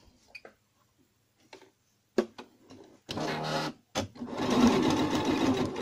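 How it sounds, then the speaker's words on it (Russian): A sewing machine stitches doll parts in short separate bursts at first, then runs in longer continuous stretches, with a stitch length of 1.5, close and clear with no talk. "И начинаем шить."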